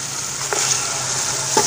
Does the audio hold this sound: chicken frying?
yes